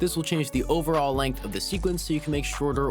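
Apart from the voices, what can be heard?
No everyday noise stands out behind the speech.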